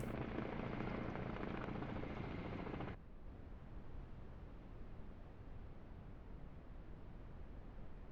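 A helicopter in a horror skiing game, a close, steady rotor-and-engine roar that cuts off abruptly after about three seconds, leaving only faint low background noise.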